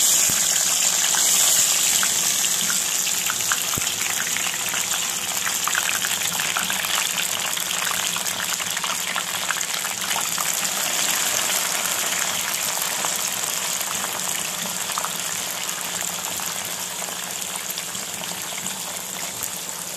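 Pieces of bitter gourd fry in hot oil on a stove with a loud, steady crackling sizzle that fades slightly over twenty seconds, with no voices.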